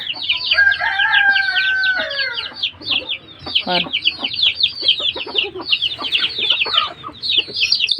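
Chickens and small chicks cluck and peep steadily at feeding time in a Tamil village yard, a dense chorus of short chirps and clucks with a few longer calls, close and continuous.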